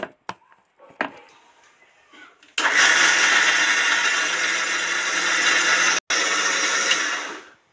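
A mixer grinder loaded with young green peas and no added water starts after a few light taps and runs as a loud, steady motor whine. It stops briefly, then resumes and winds down.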